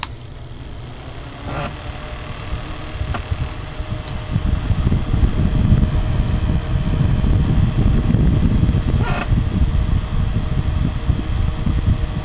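A Vibe E-Ssential single-speed USB fan runs with a steady whooshing drone that swells louder after a few seconds and holds constant, close to the microphone, with a couple of faint clicks and no talking.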